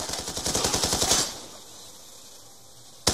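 Dragon Fire gun in a video game unloads a rapid, loud burst of automatic shots for about a second, then cuts off, followed by quiet room tone and a brief loud blip at the end.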